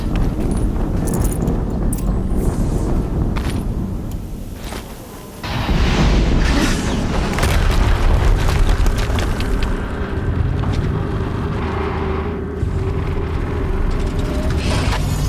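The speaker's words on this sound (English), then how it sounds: "Another explosion." Loud, dense explosions and rumbling combat noise from the Horizon Zero Dawn: Complete Edition action game, continuous throughout with a brief lull before a heavy renewed blast surge midway.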